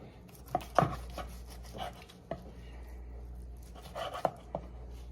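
A kitchen knife cuts between crispy fried baby back rib bones, producing several short knocks and crunchy chopping hits at an uneven pace, close and fairly soft.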